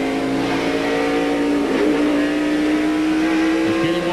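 NASCAR stock cars racing at Watkins Glen in 1997, a loud, steady engine roar with rising pitch as a tight pack of six cars runs close together, continuous and near throughout.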